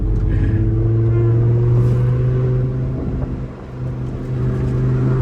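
A Lamborghini Huracan's engine drones loud and close from inside the car on a street pull, a steady sustained exhaust tone that dips briefly and then builds again.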